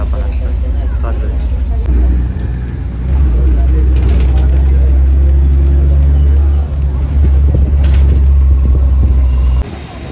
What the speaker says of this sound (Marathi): बसमध्ये आपण आता चाललोय.